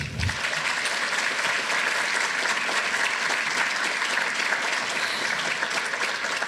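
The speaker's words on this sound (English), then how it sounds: "I think everyone I've just mentioned deserves a round of applause." Dense, steady applause from a crowd at the evening opening of a tattooing heritage exhibition, loud and sustained without letup, no voices rising above it.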